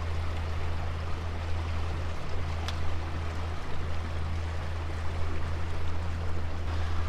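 A steady low engine hum of a boat on the River Murray drones on nearby, with rushing water noise throughout.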